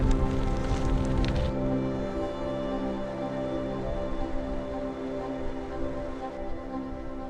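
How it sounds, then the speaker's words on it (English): Steady rain falls on a cycling trip around Sweden, a continuous broadband patter holding at an even level throughout, with a louder burst in the opening moments before settling into a constant wash. "It's raining."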